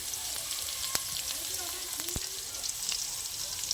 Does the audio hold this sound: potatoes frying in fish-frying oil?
yes